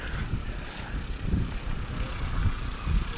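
A STOL light airplane on landing approach with flaps down, its propeller engine droning steadily at a distance with a low rumble and faint wind noise, no voices over it.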